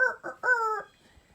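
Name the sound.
storyteller imitating a rooster crowing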